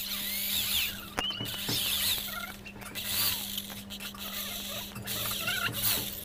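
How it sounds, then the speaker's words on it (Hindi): Drilling a 4 mm hole into a metal saw gauge plate for a cutter machine, heard as a steady close whine with a constant hum underneath and brief bursts and knocks as the bit bites. "इसमें अपना यही 4 mm वाले बिट से होल कर लेना है।"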